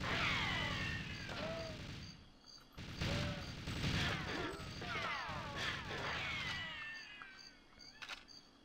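Repeated hand grenade blasts in the N64 shooter GoldenEye 007, loud bursts and crashing debris piling up across the clip, with whistling game effects scattered among the explosions.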